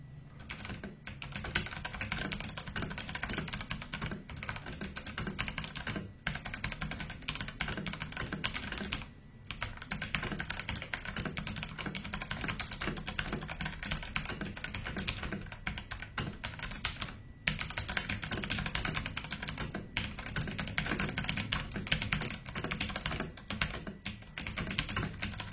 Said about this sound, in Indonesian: mari kita dengarkan dulu keyboard sound test-nya